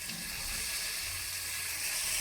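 Water is poured steadily into a pot of telaga pindi (sesame flour) being made with drumstick leaves, a continuous close rushing splash lasting throughout with no talking.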